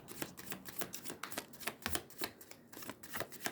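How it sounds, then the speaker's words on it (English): Oversized tarot cards being shuffled up close, rapid papery riffles and light slaps in uneven bursts, quiet and alone. "they're a lot easier to shuffle than what I thought they would be"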